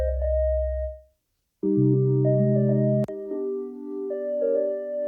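An Afrobeat melody in FL Studio without EQ plays as a few sustained synth chords with heavy low end, a brief gap, then a stepping sequence of notes and one sharp click.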